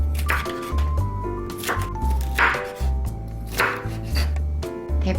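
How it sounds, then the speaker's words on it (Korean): Quick, steady knife chops cut through half an onion and half a paprika, each firm thunk landing close and loud over soft background music. "파프리카 반 개도 먹기 좋게 잘라주세요."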